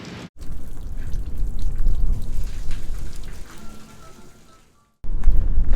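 Rain falls on a sailboat as a dense patter of drops, loud and steady before thinning out and briefly dropping to near silence, then a heavy burst comes back at the end.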